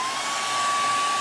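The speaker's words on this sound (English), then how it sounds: "I'm going to hit this with the blow dryer." A blow dryer runs steadily and close, a continuous airy whoosh with a thin high motor whine, heard alone at even loudness for a moment.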